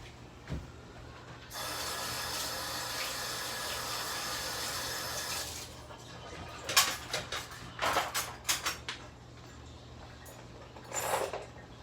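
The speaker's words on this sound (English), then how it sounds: "I'm gonna wash my hands" Water runs from a kitchen faucet for several seconds as hands are washed, a steady broadband rush, followed by a few short clattering knocks and splashes at the sink.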